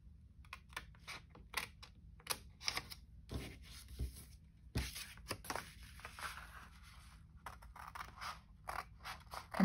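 Scissors snipping through paper for a scrappy mini journal, a run of close, crisp cuts in quick uneven bursts with small rustles and a couple of louder crunches between them.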